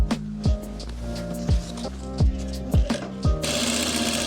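A sewing machine stitching Afghani salwar fabric, with rhythmic bursts of the needle running in short spurts separated by pauses, close and fairly loud, then a steadier whirring stretch at the end.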